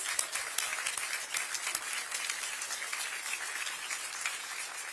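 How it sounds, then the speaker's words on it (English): Audience applause at a groundbreaking ceremony for a new Portland Thorns and WNBA training facility, a moderate, steady crowd clapping with crisp individual claps standing out near the start, lasting several seconds without speech. "Let's give them a round of applause."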